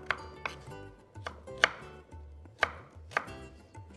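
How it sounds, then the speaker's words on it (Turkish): A knife chops food finely on a board in a home Anatolian kitchen, giving a steady series of sharp, close knocks about every half second, loud and clear with no talking. "Hemen minik minik doğramaya."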